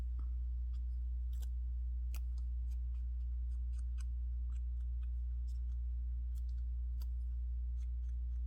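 Scissors snip through an altered paper store tag, making small crisp clicks spread unevenly over several seconds above a constant low electrical hum.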